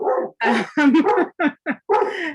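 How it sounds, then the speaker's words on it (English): Dogs at home barking at someone at the door, a rapid series of loud, close, sharp barks separated by brief gaps. "Can you take this over till the dogs stop barking because there's somebody at the door?"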